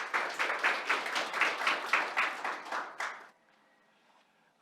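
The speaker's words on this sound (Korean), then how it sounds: "다시 한번 큰 박수 보내주시기 바랍니다" An audience at a water and wastewater association's 20th anniversary ceremony claps in a brisk, pulsing burst for about three seconds before stopping abruptly, leaving near silence.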